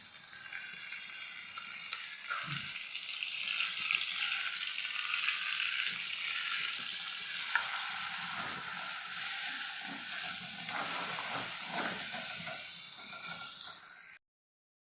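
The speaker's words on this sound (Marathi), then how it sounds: "हे टोमॅटोची प्युरी छान अशी परतेपर्यंत" Tomato puree made from raw tomatoes ground in a mixer sautés in a pan for a pea and cauliflower curry, a continuous close sizzle and hiss with occasional stirring scrapes, no voices.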